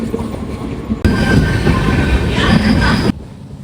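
A train rumbles in loudly and close, wheels rattling with a high squeal on the rails as it rolls into the platform.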